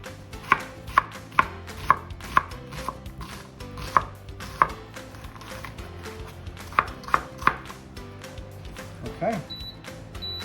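A sharp kitchen knife chops onions on a board for a spaghetti bolognese, producing a run of crisp, close taps in irregular bursts, with a voice talking over part of it.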